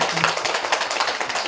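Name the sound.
church congregation applauding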